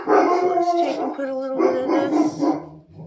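A German Shepherd dog barks and whines close by indoors while a person keeps talking over it.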